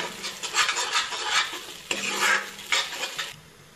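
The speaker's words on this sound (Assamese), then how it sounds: "এইখিনি অলপ সময় এতিয়া ভাজি মেলি তাৰপিছতে আৰু অলপ পানী দি উতলিব দিম" Assamese curry made with curry leaves is fried in a pan and stirred, giving a soft hiss of sizzling with rough scraping bursts from the spoon, close up and with no talking.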